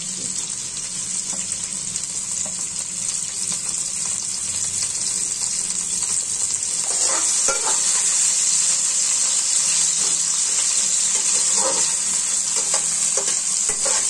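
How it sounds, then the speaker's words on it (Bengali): Chopped onions and green chilies frying in hot oil in a home kitchen, a steady loud sizzle with occasional stirring scrapes and clinks throughout. "দাও পেঁয়াজ আর কাঁচামরিচ কাটা দিয়ে দাও"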